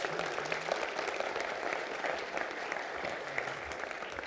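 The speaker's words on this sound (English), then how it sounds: "Please give them a round of applause." An audience claps for board members at a president's address, a sustained wash of many hands clapping at even strength throughout, with a faint low murmur beneath.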